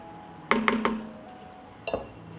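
A spoon stirs potato stew in a pot, giving three quick metallic clinks against the side, a pause, then a couple more knocks, close and fairly crisp.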